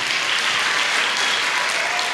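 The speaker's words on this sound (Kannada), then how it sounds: "ಇನ್ನೊಂದು ಸತಿ ದೊಡ್ಡ ಚಪ್ಪಾಳೆ ಅಂತ ತಟ್ಟೋಣ." An audience applauds at a Christmas cultural program, with steady, dense clapping that fills the room evenly and at close range throughout.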